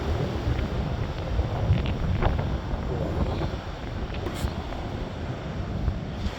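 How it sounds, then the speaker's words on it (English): Strong wind buffets the microphone in continuous rumbling gusts, with water sloshing faintly beneath and no clear speech. "Still very windy, you can probably hear that."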